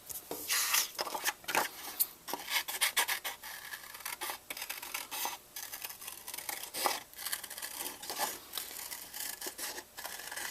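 Scissors snip and rasp through paper while cutting out concentric-circle shapes for a paper sculpture, a close, busy run of short crisp cuts and rustles with no voices.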